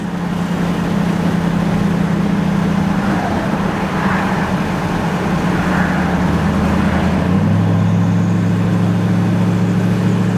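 A twin-turbo C8 Corvette cruises steadily at around 50 mph and 1700 rpm, a low, even engine drone with road noise filling the cabin throughout and a slight shift in tone near the end.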